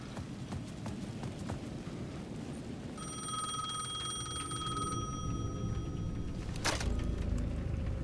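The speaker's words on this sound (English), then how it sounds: "The payphone at the edge of the plaza was ringing again." A bell-like payphone in the video game Alan Wake II rings in a sustained metallic tone over rhythmic footsteps and ambient noise, then cuts off, followed by a sharp clack.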